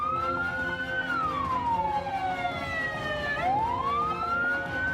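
A fire engine siren wails nearby, one slow falling sweep followed by a rising one, over the rumble of traffic with no talking.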